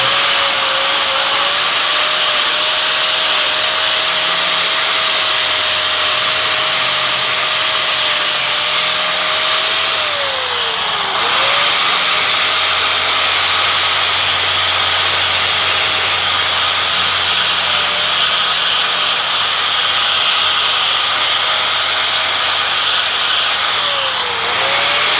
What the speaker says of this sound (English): Take a wire wheel die grinder.